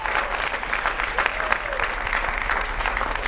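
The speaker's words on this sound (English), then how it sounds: "So give her another round of applause." A large audience at a motivational speaking event breaks into steady, continuous applause, close and full, holding at an even level throughout the short stretch.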